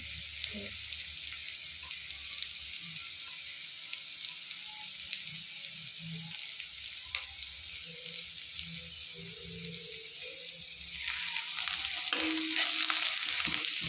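Garlic frying in oil for pasta makes a soft, steady sizzle with occasional stirring clatter, then grows louder and brighter near the end.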